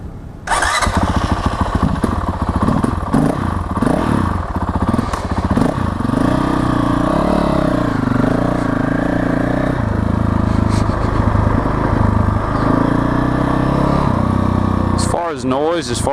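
A Honda CRF 450L motorcycle fitted with an FMF Q4 exhaust starts up close by, then settles into a loud, steady idle with throttle blips and a rising rev at the end.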